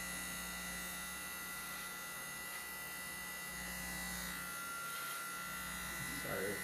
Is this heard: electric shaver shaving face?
yes